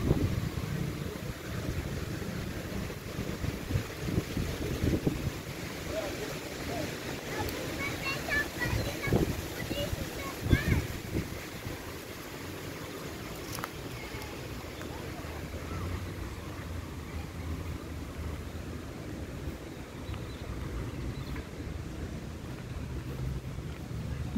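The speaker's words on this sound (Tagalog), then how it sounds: "Mahangin, mahangin." Strong wind blows outdoors and buffets the microphone with a steady low rumble through the whole stretch. People talk over it throughout.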